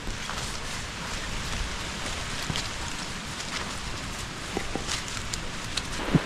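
Rain falls in a dense Konkan forest as a continuous soft wash of hiss, scattered with faint ticking drops, even in level and without voices.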